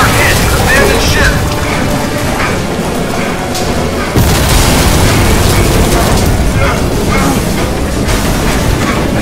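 In Crysis 2, a torpedo strikes a ship with a loud, sustained explosive roar and rumbling debris, followed by a second heavy burst midway.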